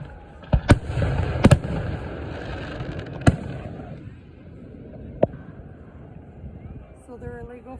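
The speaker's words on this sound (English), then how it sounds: "These are Class A fireworks." Class A professional fireworks at a Fourth of July display in Morristown, New York burst in several sharp, loud booms spaced a few seconds apart, trailing crackle between them, while people chat nearby.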